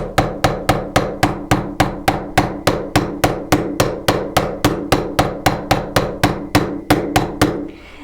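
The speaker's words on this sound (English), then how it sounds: "where the hammer has made contact with the metal" A hammer strikes a metal sheet over and over to texture it, in a steady, even rhythm, each blow sharp and ringing, close by, roughly three hits per second.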